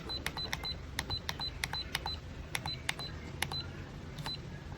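Short electronic beeps sound from button presses while the temperature is set on a Mijing iRepair phone preheater for iPhone X to 16 series. About a dozen clear beeps come in a loose rhythm over a low steady hum.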